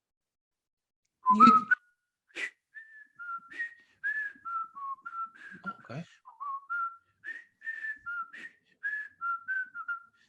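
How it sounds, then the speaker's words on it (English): A person whistles the bouncy Andy Griffith Show theme alone, short clear notes in a steady rhythm, after a brief spoken word at the start. "Sometimes when you're really happy, it feels good to whistle."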